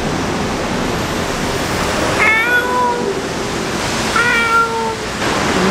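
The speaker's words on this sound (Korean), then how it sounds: "고양이다. 고양이 있어요" A cat on a rainy street meows twice, thin and fairly faint, under a steady hiss of rain or traffic noise, with no talking.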